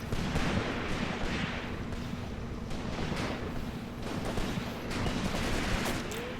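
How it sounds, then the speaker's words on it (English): Battle gunfire in the war game Graviteam Tactics: Mius Front, with dense overlapping rifle and machine-gun bursts, some shots close and sharp over a constant roar of distant firing. "Even the commissar is shooting his pistol. Whoa, really close shots."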